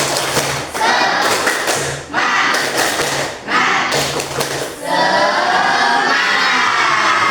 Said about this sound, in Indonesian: Coba ya, 1, 2, 3, tepuk semangat.